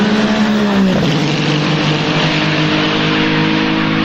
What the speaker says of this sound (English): their crazy good Ferrari 499P hypercar, which sounds fucking amazing